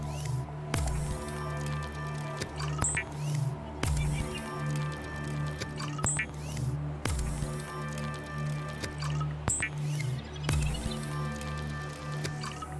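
Wet squishing, dripping water-production sounds from Subnautica repeat in a steady cycle, each with a low thump and liquid gurgle, over a constant mechanical hum and tonal drone, with no speech.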